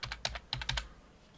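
Computer keyboard keys clatter in a quick burst of about eight close, crisp presses in an irregular rhythm, then fall silent.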